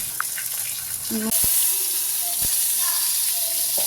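Water gushes from a tap into a pot of jute leaves and pea lentils, a sudden steady hissing pour that starts partway through and continues to the end, preceded by faint kitchen clinks.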